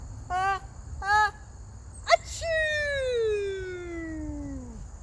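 A storyteller's voice imitates an elephant's sneeze: two short vocal bursts build up, then a sharp burst and a long, loud, trumpeting tone that slides slowly downward and fades, all close and clear.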